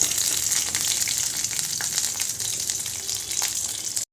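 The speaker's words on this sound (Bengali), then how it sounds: "কড়াতে বড়িগুলো দিয়ে দিয়েছি বড়িগুলো এবার একটু লাল লাল করে ভেজে তুলে নেবো" Steady, loud sizzling and crackling of lentil dumplings frying in hot oil in a wok, continuous throughout with no voices.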